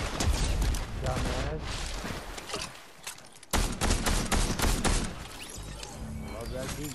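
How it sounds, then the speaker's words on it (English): Goo gun firing in a video game, loud rapid bursts of gunfire in dense volleys with a brief pause midway, mixed with players talking over the shooting. "Love that goo gun"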